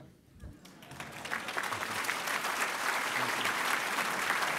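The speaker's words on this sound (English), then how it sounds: "The only applause I deserve is because I did my delivery in 18 minutes." A seated dinner audience breaks into applause after a political address by Álvaro Uribe, rising from a few scattered claps into sustained, dense clapping that fills the room.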